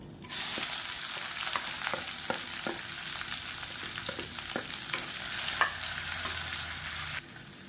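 Sliced onion and two green chilies frying in hot oil in a pan, a steady close sizzle broken by repeated scraping stirs, with no voices.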